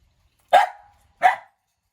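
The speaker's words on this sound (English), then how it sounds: "Dogs, be quiet please." Two sharp barks from dogs near a home plant collection, spaced about three-quarters of a second apart, loud and close against otherwise quiet surroundings.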